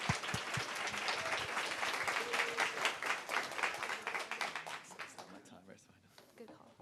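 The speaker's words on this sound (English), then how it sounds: "So if you want to give him a round of applause." Applause from an audience at a designers' talk event on building with Cursor, dense steady clapping for about five seconds that thins out and fades toward the end, with faint murmuring in the background.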